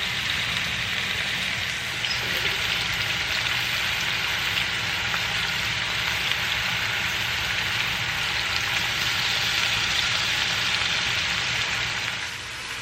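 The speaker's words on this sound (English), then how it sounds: "so while the meat is searing" Beef sears in a hot pan with a loud, steady sizzle and crackle that holds evenly throughout, close by with no talking.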